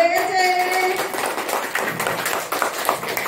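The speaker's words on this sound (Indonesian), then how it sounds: "Tepuk tangan dulu buat anak BBC." An audience applauds children at a prize-giving with a burst of clapping and scattered cheers, loud and close, following a voice that fades out at the start.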